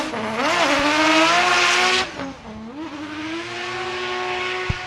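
A Nissan Silvia drift car at a competition qualifying run roars loudly off the rev limiter, a sustained high engine howl that drops sharply, then climbs again with tyre squeal, all close and alone.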